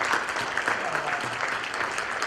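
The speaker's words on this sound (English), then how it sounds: "Let's give him a big round of applause." An audience at a national policy forum gives a university president a round of applause, brisk continuous clapping that stays full and even for the whole stretch before cutting off at the end.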